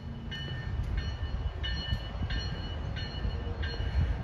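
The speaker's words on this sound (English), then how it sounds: "There's actually a train coming." Metro Electric and Amtrak trains arriving at the Homewood station, with a continuous rolling rumble of rail cars under a series of short, evenly repeated horn or signal tones.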